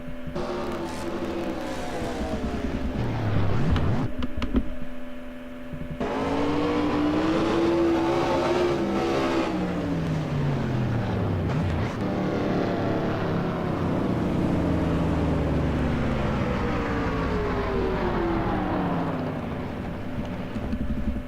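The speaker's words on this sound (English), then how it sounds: "Just listen to that engine." Onboard engine of a modified race car at Martinsville during a 2006 Modified Tour race: a loud, steady drone with rising and falling pitch sweeps as it revs, briefly dropping away around the middle before roaring back.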